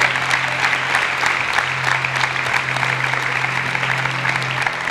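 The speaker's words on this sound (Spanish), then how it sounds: "Fortísimo aplauso para Lara." Sustained applause from the audience at a women's sports team presentation, with steady, dense clapping throughout and a low hum underneath.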